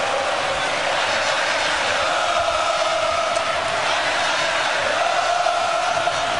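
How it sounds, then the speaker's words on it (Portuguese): Flamengo supporters roar and cheer wildly throughout Maracanã stadium, a loud, dense, continuous crowd wash that stays steady with surging whoops and shouts mixed in. "Agora a torcida do Flamengo enlouquece o Maracanã."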